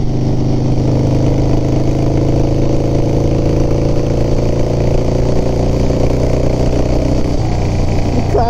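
Harley-Davidson FXR motorcycle engine running loud and close, a steady continuous rumble throughout with a slight shift in tone near the end, no talking over it.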